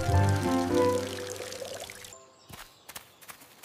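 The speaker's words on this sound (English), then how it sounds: "Robot can help us water the trees with rainwater." A cartoon robot pours rainwater onto trees, a steady gushing pour that fills the first two seconds, then breaks off into a few scattered drips and splashes.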